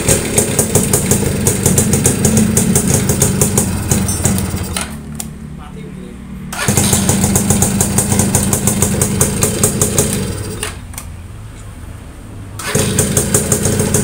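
Yamaha V80 motorcycle, its electric starter just repaired after a wrecked unit with a loose magnet, cranks and then runs. The small engine putters loudly and steadily close up, with two brief dips where the throttle eases.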